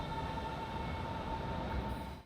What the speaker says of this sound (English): This ICE1 is just completing its run from Cologne, coming in on the elevated Stadtbahn